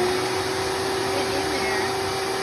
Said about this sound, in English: now I got my shop vac. I got a narrow attachment. I'm going to go ahead and turn it on.